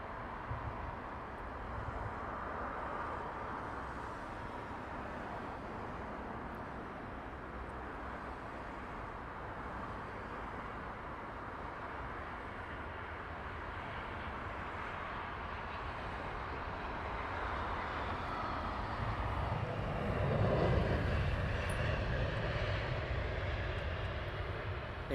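A British Airways Airbus A350 arrives at London Heathrow as a distant, low engine rumble that slowly grows and swells louder near the end.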